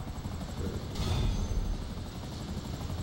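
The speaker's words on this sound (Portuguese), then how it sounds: "Será que de helicóptero vai ser mais fácil localizar ele?" Helicopter in the GTA Online video game flying with a steady rotor whir and engine drone that swells briefly louder before settling, heard alone without talk.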